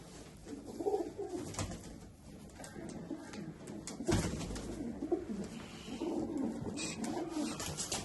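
Pigeons cooing close by in soft, throaty repeated calls, with faint background rustle and no talking.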